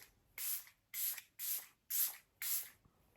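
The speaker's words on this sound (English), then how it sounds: "So I'm going to give this a good shake and a spritz." A bottle of Hard Candy Look on Lock setting spray is misted five times in quick, evenly spaced hissing bursts, close up and crisp against near silence.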